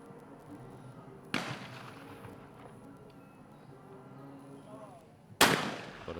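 Two sharp shotgun blasts from a men's trap shooting final at an outdoor range, a few seconds apart, each with a loud crack and short decaying echo over quiet background murmur.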